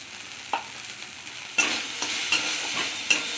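Spice paste being stirred and fried in a pan, with cumin powder added: a continuous soft sizzle punctuated by several sharp scraping strokes of a spoon against the pan, close up with no talking.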